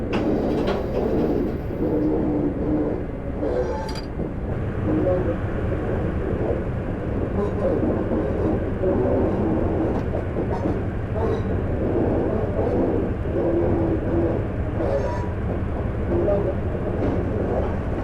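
An HST train departing Weston-super-Mare in Train Simulator 2015 on the Bristol to Exeter route, with a steady, loud diesel engine drone and rolling rumble throughout, a brief horn-like tone at the start and someone talking over it.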